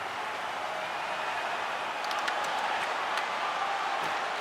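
An NHL 26 hockey game arena crowd roars steadily in the final seconds, a dense, sustained wash of cheering with scattered sharper claps and whistles rising partway through.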